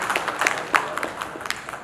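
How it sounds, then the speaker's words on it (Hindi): Applause from an audience at a company product launch event at the Marriott, a short burst of scattered, moderately loud clapping with individual claps audible. "सर एक बार जोरदार ताली होनी चाहिए"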